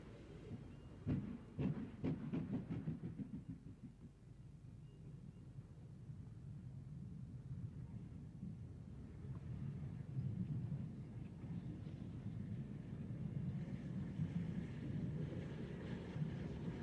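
A steam locomotive hauls its train tender first toward Fishguard, a low rumbling roll with faint rail clatter, steady and moderately distant, no voices.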